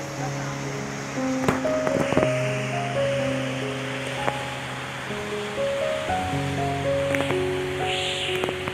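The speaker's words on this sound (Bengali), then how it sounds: "সমুদ্রের গর্জন শুনতে শুনতে সময়টা খুব সুন্দর কেটে গেল" Arabian Sea waves at Marine Drive in Mumbai make a continuous broad wash of surf with steady rushing noise, partly masked by music playing over it.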